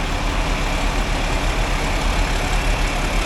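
Several John Deere tractors idle together inside a shop, a steady, dense low rumble of diesel engines that fills the space continuously, with no talk over it.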